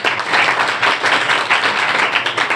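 An audience at a career counselling session applauds, a dense burst of clapping that holds steady for a couple of seconds.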